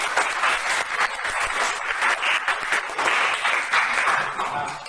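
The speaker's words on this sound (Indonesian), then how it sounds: "kita berikan tepuk tangan untuk" A classroom audience applauds a group presentation with sustained, even clapping from many hands, steady for several seconds at moderate distance.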